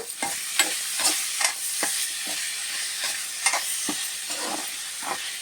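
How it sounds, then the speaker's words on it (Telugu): Potato, tomato and carrot pieces fry in a pan for an Andhra-style veg biryani. A constant sizzle runs underneath while regular stirring scrapes and clinks repeat about every half second, close up, with no talking. "ఇదండి చక్కగా వేగుతున్నాయి."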